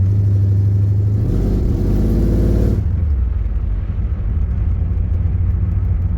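A 1978 Camaro's engine rumbles loudly and steadily while driving home from a car show. The tone shifts partway through as the revs change, then settles into a deep, even drone.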